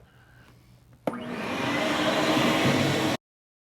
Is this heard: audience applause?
no